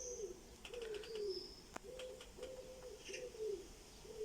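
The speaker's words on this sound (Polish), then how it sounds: "Co trochę słyszę śpiew ptaków" A dove coos repeatedly in a slow, even rhythm, with faint chirps from other birds scattered over a quiet background.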